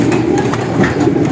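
Pigeons coo in a loft in a low, soft, murmuring mass that runs throughout, heard close, with a steady low hum underneath.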